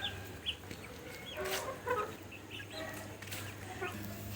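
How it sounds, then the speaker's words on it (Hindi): Chickens cluck softly and intermittently while pecking at mangoes, a few short faint calls over a quiet outdoor background. "यहाँ मुर्गियों को आम खिलाए जा रहे हैं"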